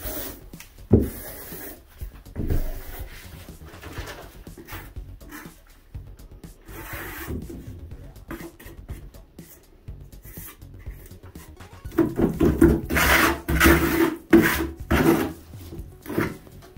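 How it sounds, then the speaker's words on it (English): White sanded grout is worked across bathroom wall tiles during a cheap renovation, making close, scraping, rubbing strokes in irregular bursts that grow louder and denser toward the end, with a dog barking once early on. "So he's grouting with a white sanded"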